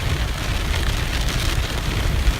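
Steady rain falling during a May cloudburst, a dense, continuous hiss of drops close by with no talk and a low rumble underneath throughout.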